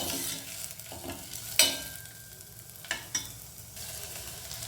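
Green gram frying in oil in a pan, a soft steady sizzle punctuated by a few sharp spoon scrapes and clinks as it is stirred, close and alone.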